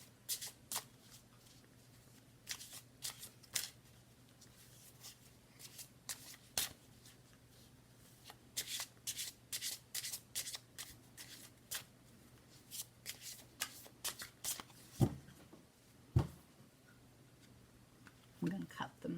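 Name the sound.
tarot cards being shuffled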